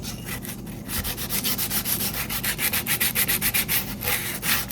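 Sandpaper rubbed back and forth over a wooden spoon, a rapid rhythmic series of close, dry rasping strokes with no voices.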